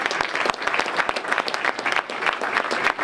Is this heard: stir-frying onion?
no